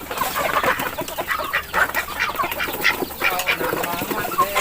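Chickens cluck on a farm field, with several birds making repeated, busy, overlapping clucks at close to middle distance throughout.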